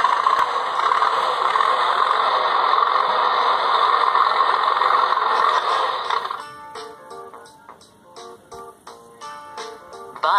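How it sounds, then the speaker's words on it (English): A tractor engine idles steadily and loud for about six seconds with a rattling mechanical drone, then gives way to a choppier, pulsing texture as the engine noise fades and fluctuates. "Tractor."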